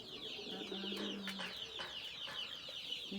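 Tumbler pigeons of a single family line coo softly in their loft, low rolling calls coming faint and close against quiet background rustle.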